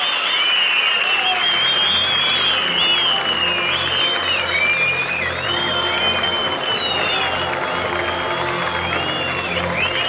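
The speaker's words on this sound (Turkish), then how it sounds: "Çok daha kuvvetli bir alkış rica ediyorum" Sustained loud applause and cheering from an audience welcoming Turkey's amputee football national team, with whoops and shouts layered over steady clapping throughout.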